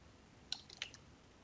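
Computer keyboard typing while entering a formula in Civil 3D software: a few faint, quick key clicks in a brief burst against a quiet background.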